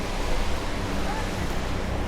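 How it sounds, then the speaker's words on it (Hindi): A waterfall pours from a high rock face beside the Kedarnath trail, a dense, steady roar of falling water filling the short clip at close range. "रास्ते में चलते चलते एक बेहद खूबसूरत झरना आ चुका है"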